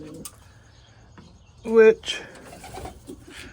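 White homing pigeons coo softly and close by in short bursts with rhythmic warbling notes and a few chirps, while a person talks briefly.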